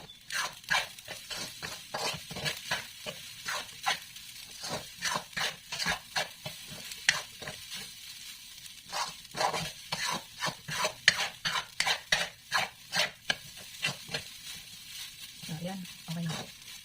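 Rice is stirred in a frying pan as a steady run of scraping strokes in a quick, uneven rhythm over a low sizzle, with a brief voice near the end.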